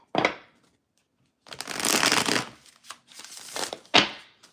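Tarot cards are shuffled in a few short riffling bursts, crisp and close, separated by quiet pauses.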